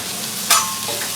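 Onions fry on a Blackstone griddle beside smash burgers, giving a steady close sizzle with one brief, louder scrape of a spatula partway through.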